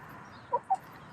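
A hen recovering from illness, kept on a perch, gives two short, distinct clucks about a fifth of a second apart over a low, steady background hum.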